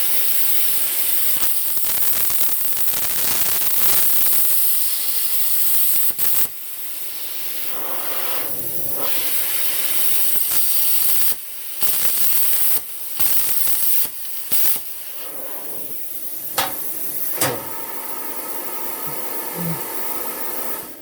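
A plasma cutter hisses and roars through metal in a long, loud burst broken by several abrupt stops and restarts, with short crackling bursts and pauses between passes.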